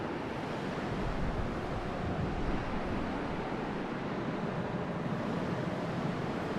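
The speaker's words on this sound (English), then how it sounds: "It's pretty dark and windy here" Wind blows through dark, open Hyrule Castle grounds in the video game Zelda: Twilight Princess HD. It is a steady, even roar of gusting air from start to finish, with no voices.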